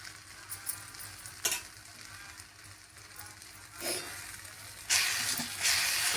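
Grated coconut stir-fried in a pan while making an aubergine bharit, a soft close sizzle with occasional spatula scrapes that grows louder and brighter toward the end, with no one talking.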